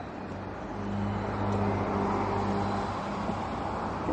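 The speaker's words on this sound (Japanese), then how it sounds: "あ、車入ってきちゃった。" A car rolls into a quiet lot, its steady engine hum and tyre rumble rising from a distance and holding close for a few seconds, with no talk.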